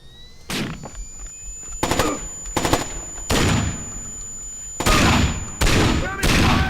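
Gunfire in the video game Splinter Cell Chaos Theory: several loud, close bursts of shots in separate volleys, with short gaps and a steady high electronic tone running underneath.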